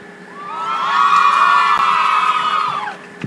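Fans scream and cheer at a Pretty Little Liars cast interview, a loud, high-pitched wall of shrieking voices that swells, holds for a couple of seconds and then cuts off abruptly.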